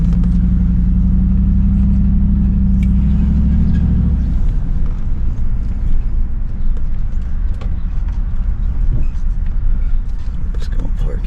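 A car pulls up and parks at a concrete and construction work site in winter, its low engine rumble steady for about four seconds before cutting off, followed by rustling and handling noises close by.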